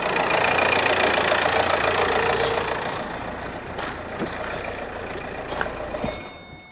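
A diesel car engine runs after a jump start, a loud rough clattering idle that eases off partway through and then settles into a quieter, uneven rumble with a few knocks; nobody speaks.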